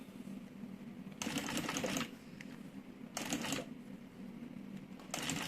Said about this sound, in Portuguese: Eu vou fazer essa costurinha até lá no final e depois eu volto pra gente colocar o acabamento com viés.